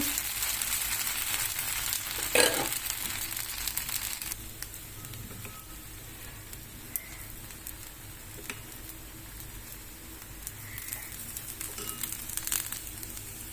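Hotel-style dosa batter sizzles on a hot pan, a steady close crackle with a brief louder scrape near the start and scattered small ticks and pops.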